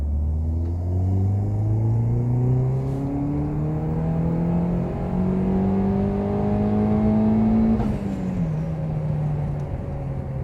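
A Peugeot 207 GTI fitted with a bigger intercooler pulls hard from second gear, its engine note rising steadily for about eight seconds before the revs drop at the shift, then climbing again, loud and close with no talk.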